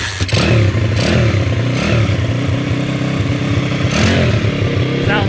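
A Honda CT70 mini bike with a swapped-in 140cc engine runs loud and close, its motor revving up and down in repeated surges with some clattering over the steady engine drone.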